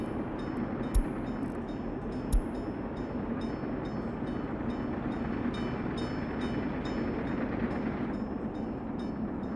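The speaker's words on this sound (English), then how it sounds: "because this train's coming in" A train rumbles into a station in Workers & Resources: Soviet Republic, a steady low rolling roar with faint clicks, plus a couple of sharp interface ticks early on and no talk.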